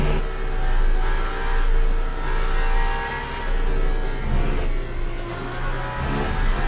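Aston Martin Valkyrie GTP race car engine in Le Mans Ultimate, a loud, sustained mechanical roar that swells and eases through revs and gear changes, close and continuous with no voices over it.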